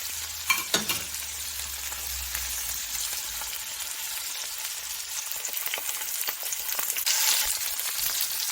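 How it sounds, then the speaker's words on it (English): Salmon fillet frying in a spoonful of oil in a hot pan, a steady close sizzle and crackle that runs throughout with a couple of sharper spits near the start. "I will give my salmon some time to cook on one side before I flip it on the other side."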